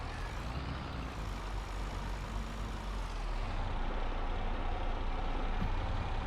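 A tractor or farm vehicle engine runs steadily in Farming Simulator 22, a broad continuous rumble that swells slightly louder midway, with no talking.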